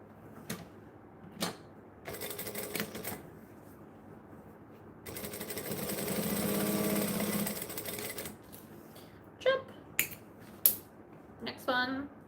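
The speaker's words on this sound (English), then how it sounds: "So this is called chain stitching" A sewing machine chain stitching fabric, running in short bursts with a longer steady whirring run in the middle, separated by quiet pauses and a few sharp clicks.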